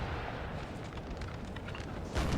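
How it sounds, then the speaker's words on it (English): Cannon duel artillery fire in Napoleon Total War at the Battle of Quatre Bras, 1815: a dense, steady rumble of distant booming guns, with a louder blast swelling at the end. "this cannon duel over here is going to be going on for a little while for sure"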